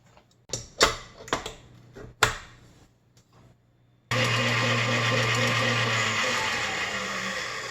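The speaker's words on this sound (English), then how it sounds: "So this is ready for the mixer." Scattered sharp clicks and knocks as bread dough for wheat hotdog buns goes into a stand mixer, then the mixer motor starts abruptly and runs loud and steady, whirring and beating without letup.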